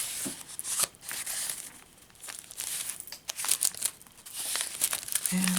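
Sheets of construction paper crinkle and rustle as they are handled for a garden-themed journal, a near, continuous papery crackle with a few sharper crisp rustles throughout.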